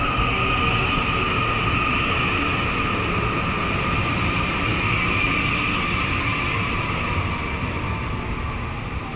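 An ITX-Saemaeul passenger train at Gyeryong Station rumbles steadily and loudly with a sustained hum and rolling noise, filling the whole clip with no pauses.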